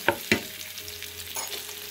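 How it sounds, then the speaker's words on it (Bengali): Chopped onion hits hot ghee and oil in a pan, giving a steady close sizzle after two sharp clatters of stirring at the start. "চুলা একটা প্যান বসে দিয়ে 2 টেবিলস্পুন ঘি এবং 1 টেবিলস্পুন দিয়ে দিয়েছি তেল। লবণ ঘি দুটো গরম হয়ে গেছে, দিয়ে দিয়েছি একটা পেঁয়াজ কুচি।"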